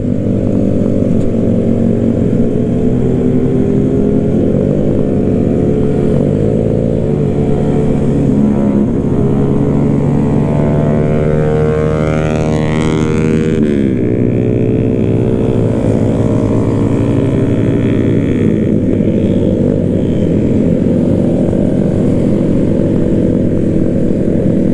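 Twelve motorcycles on a group ride in Makassar, Indonesia, drone together continuously and loudly, a layered hum that shifts in pitch as the bikes ride along with wind noise.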